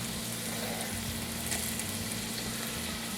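Chorizo, olives and tomato paste fry in a pan with bay leaves, giving a steady close hiss and crackle with faint stirring, no voices.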